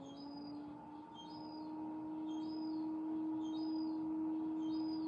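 Young gulls give high, squeaky calls about five times in a loose repeating rhythm, over a steady low mechanical hum.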